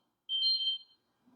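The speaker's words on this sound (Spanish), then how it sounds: "ahí está la alarma de su celular. Ese es el ruido que ustedes escuchan." A mobile phone alarm in a church service gives one short, shrill electronic beep, about half a second long and fairly faint, followed by quiet.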